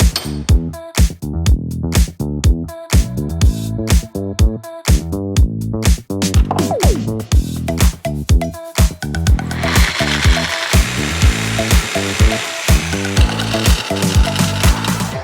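A power tool cuts through a 3/8-inch round rod for a guitar neck barrel nut. Loud, rhythmic grinding pulses build into a continuous harsh, rasping whine as the cut goes on.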